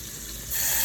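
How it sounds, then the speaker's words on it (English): Brown sugar dropped into melted butter in a pan for barbecue sauce, a soft steady sizzle that swells to a louder hiss about halfway through the short moment. "now that our butter is melted, we're gonna add some brown sugar."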